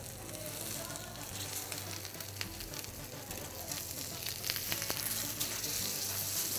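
Beef steak sizzles and fries in a pan with a continuous, crackling hiss. It is close and steady the whole way, with no talk.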